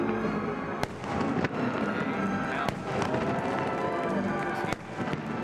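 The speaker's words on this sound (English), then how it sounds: "They've figured out how to make fireworks spell Malta." Fireworks burst over Malta with repeated sharp cracks and bangs at irregular intervals, over a continuous crackling rumble from some distance; no one speaks.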